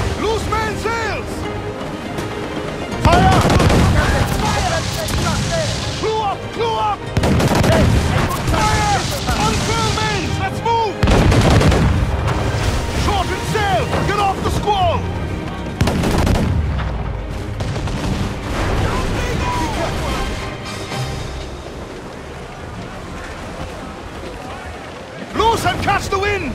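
Ship cannons firing in a naval battle in Assassin's Creed IV Black Flag, loud booming volleys repeating throughout, with crew voices shouting among the blasts.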